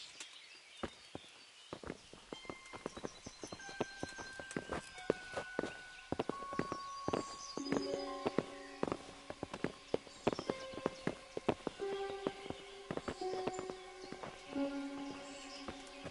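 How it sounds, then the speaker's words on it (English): Horses' hooves clip-clop in Kingdom Come: Deliverance, a steady stream of sharp close hoof strikes over a quiet outdoor bed, with a few faint bird calls in the background. "Bring the horses."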